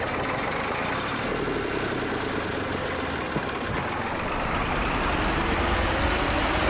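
A Zetor 3011 vintage 35-horsepower tractor in a farming game, its engine running at a steady loud drone with a low rumble that holds constant throughout, alone with no talk.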